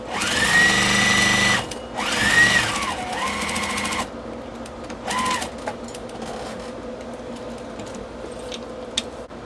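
A sewing machine stitches fabric strips for a mug rug, with loud, close motor whirs in two long runs and then shorter bursts, separated by pauses and light handling clicks.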